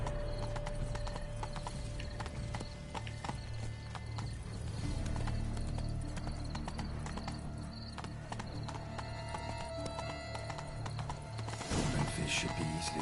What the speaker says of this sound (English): Be better off on horseback. Giddy up. I'm riding a unicorn.